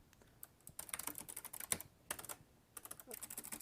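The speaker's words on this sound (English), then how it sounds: "I start typing." Close, quiet typing on a Logitech gaming keyboard, bursts of rapid clicky keystrokes separated by short pauses.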